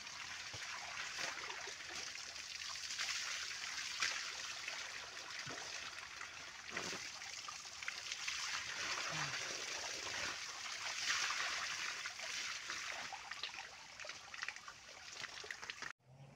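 Cold stream water flowing steadily at a river bathing spot, a continuous trickling, gurgling rush heard close and unbroken.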